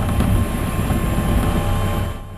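Firefighting helicopters and planes work over a forest fire in Izmir's Gaziemir district, giving a loud, steady rotor and engine drone that holds for a couple of seconds before easing slightly.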